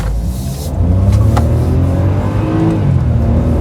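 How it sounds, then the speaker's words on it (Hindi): Hyundai i20 N-Line car accelerating hard with wheel spin: a loud, steady engine roar with rising revs, heard from inside the car with no talking. "I'll just accelerate here."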